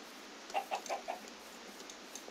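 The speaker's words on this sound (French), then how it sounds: "il suffit de regarder où sont les poulets" Minecraft chickens clucking in a short run of four quick, evenly spaced clucks, followed by a brief sharp sound at the end, faint and alone with no talk.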